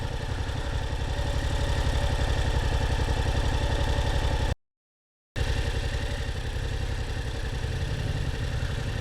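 A Yamaha MT07 motorcycle idles at a red light with a steady, rapid, even thrum of the engine, close and continuous, broken only by a brief gap.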